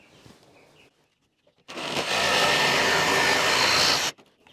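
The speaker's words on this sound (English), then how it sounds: "Had to grab my jigsaw." A jigsaw cuts a piece of wood on a model train layout, starting after a quiet pause and buzzing loudly and steadily for a little over two seconds before stopping abruptly.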